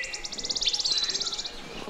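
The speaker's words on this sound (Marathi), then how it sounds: "त्या पक्ष्यांचा चिवचिवाट," Birds chirp at dawn in the Konkan countryside, a rapid run of high, evenly spaced tweets with a short whistled note, fairly close over quiet background.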